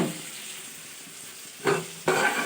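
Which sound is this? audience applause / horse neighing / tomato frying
tomato frying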